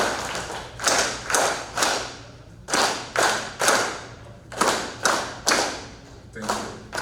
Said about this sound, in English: You clap 3 times and say welcome.